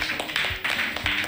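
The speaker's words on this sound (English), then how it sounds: "Why are we clapping for Michael Myers?" Audience clapping in a living-room reaction to a Halloween: Resurrection horror film scene, a steady dense patter of hands with sharp repeated accents, close and moderately loud throughout.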